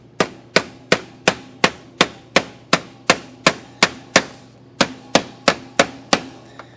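Hammer blows on a sheet metal hem around a tapered waste basket, about eighteen sharp, ringing metallic strikes in a steady, evenly spaced rhythm, close and loud with no talking.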